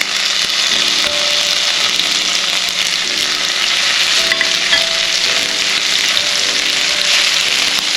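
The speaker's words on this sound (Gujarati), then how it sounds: "હવે એમાં આપણે આદુ મરચાંની પેસ્ટ સાંકળી લઈએ" Ginger-chili paste sizzles in hot ghee and oil in a pan, a steady close crackle and hiss with stirring, while a soft repeating background melody plays and no one speaks.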